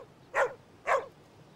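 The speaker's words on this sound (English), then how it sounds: "Puppy!" A puppy in a cartoon gives two short, bright barks about half a second apart, each with a slight whimpering edge, alone over a quiet background.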